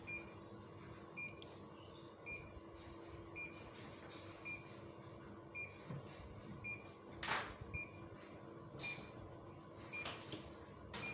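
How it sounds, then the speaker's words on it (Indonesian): A 5 kW hybrid rackmount UPS inverter with touchscreen sounds its low-voltage alarm: evenly spaced pairs of short electronic beeps repeat roughly every second, fairly faint over a humming room with occasional clicks and knocks. "Ini alarm berbunyi karena dia mencapai alarm yaitu 43 ya, dan shutdownnya 42."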